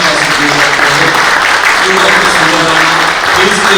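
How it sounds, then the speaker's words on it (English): Audience at a conference closing session claps in a dense, sustained wash of applause, loud and close, with a voice faintly audible beneath it. "Let's clap each one of us to do that."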